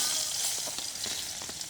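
Garlic sizzles in hot oil in a pan for pork adobo, cooked outdoors, a bright steady hiss with light popping and stirring close by.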